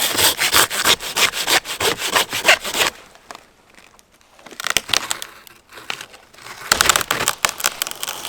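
Hand saw cutting wood into firewood logs outdoors in deep winter snow, brisk rhythmic rasping strokes close by, pausing for a few seconds, then resuming in short bursts.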